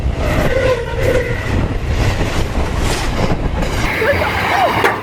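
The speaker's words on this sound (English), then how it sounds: "Here is this incredible train coming towards us" A fast train bound for Darwin rushes toward and past at about 120 km/h, a loud, steady roar of rolling wagons with faint squeals, lasting throughout without a break.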